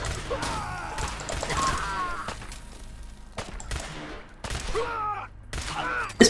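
Pistol gunfire in Fallout 4 using VATS, a series of sharp shots and impacts in bursts, fairly loud, mixed with game effects and brief background voice sounds.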